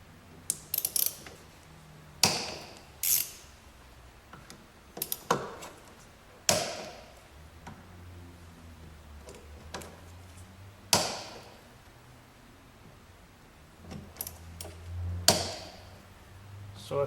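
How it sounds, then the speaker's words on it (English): Bolts on the fuel filter housing of a 1.9 liter TDI VW Jetta being loosened with a T30 Torx tool give sharp, close ratcheting clicks and clunks in scattered bursts over quiet background. "using T30 Torx, you're going to have 5 bolts that are going to need to be loosened and removed"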